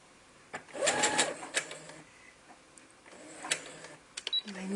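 A sewing machine back stitches at the start of a French seam, giving a short burst of rapid mechanical stitching up close, then quieter clicks and handling noises.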